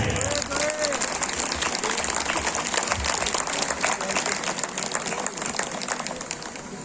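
Audience applause at a company picnic ceremony as an honorary crest is presented, a dense, sustained clapping from a crowd that tapers slightly toward the end, with a voice briefly audible early on.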